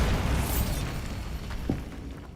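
A Bombarda spell explosion in Hogwarts Legacy lands as a loud, booming burst of broadband noise, followed by a rumbling tail with a few smaller pops.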